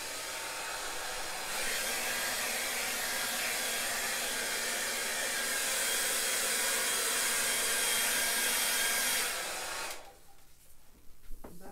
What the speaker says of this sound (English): And I think I'm going to use my blow dryer.